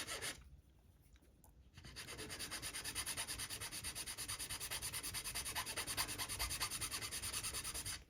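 A file rasps against the plastic hull of an RMS Mauretania model ship. After a quiet start, rapid, even back-and-forth strokes settle into a close, steady scraping rhythm.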